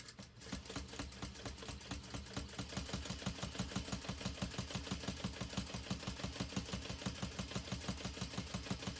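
A sewing machine stitching a crossbody bag runs in a fast, even mechanical rhythm of needle strokes throughout, steady and close with no talking.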